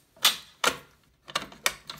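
A Simplex B key works the lock of a fire alarm pull station, giving a series of sharp metallic clicks and clacks, close up, in uneven bursts with short pauses and no talking.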